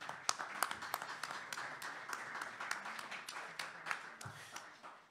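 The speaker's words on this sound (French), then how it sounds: "On l'applaudit." An audience at a political colloquium gives a soft, distant round of steady scattered clapping, with no voices over it.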